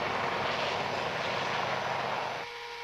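Helicopter during autorotation training, a loud, steady engine and rotor roar heard from close by, running unbroken and dropping slightly in level near the end.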